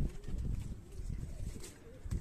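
Highflyer breeder pigeons coo softly and repeatedly at close range, low murmuring calls in a steady series with faint background noise.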